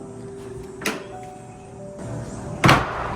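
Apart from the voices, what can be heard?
swing door slamming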